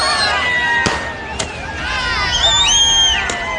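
A crowd celebration in Jammu and Kashmir, with whistling fireworks rising and gliding overhead and several sharp firecracker bangs cracking out among them. Crowd noise runs underneath the whole time.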